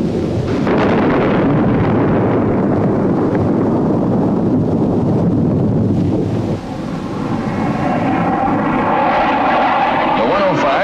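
An F-105 jet fighter-bomber roars loud and continuous during a 1962 Air Force dive-bombing run, a broad rumbling engine wash with a dip and a rising whine near the end, under narration.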